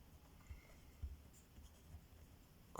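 Pen writing by hand on paper during a geometry lesson, faint soft scratching strokes with a few light taps, quiet and close with no talking.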